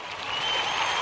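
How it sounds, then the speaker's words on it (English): A crowd applauds children from the Kujichagulia group in a dense, steady wash of clapping that holds at an even, fairly loud level without a break. "I want to give all of the Coochie babies a round of applause."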